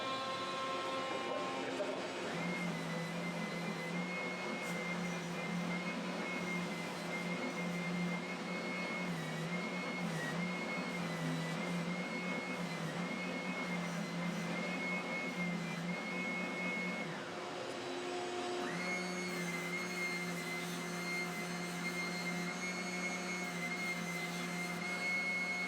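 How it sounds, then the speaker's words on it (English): Edge sander running continuously on a wood edge with 150 grit, a steady droning motor whine with a shift in pitch partway through as the load changes, loud and close. "we're going to go over to the edge sander, and we're going to clean up the edge with 150"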